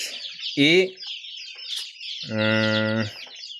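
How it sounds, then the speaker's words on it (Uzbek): Common ducks give two loud nasal calls nearby, a short one and then a longer drawn-out one, with faint chirping between them. "Bu yoqda oddiy o'rdak"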